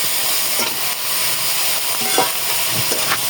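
Paneer sizzles and crackles as it is stirred and fried in a pan, a close, steady frying hiss marked by scraping stir strokes.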